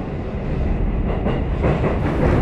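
A train on the Sanyo Main Line rumbles past nearby at Himeji Station, Hyogo, a loud, steady roar with rhythmic clatter of wheels on the rails.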